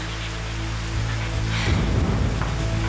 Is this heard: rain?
yes